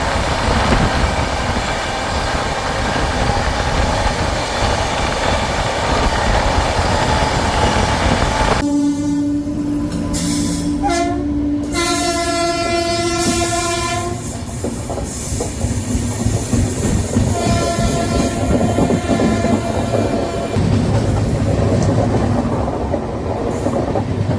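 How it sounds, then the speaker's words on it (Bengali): A passenger train rolls past at close range, a loud continuous rumble and rattle, while a horn blasts in several long tones midway through, all without any voices. "এখান থেকে আমি ট্রেন উঠবো"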